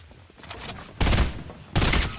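Burst assault rifle fire in a video game, heard as two loud, close bursts of rapid shots separated by a short gap, with fainter shots before them.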